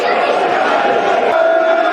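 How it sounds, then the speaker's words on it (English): Football crowd at a Millwall versus Stoke City match, applauding and cheering a substitution: a steady, loud wash of massed clapping and voices filling the stadium throughout. "Claps and applause for that move."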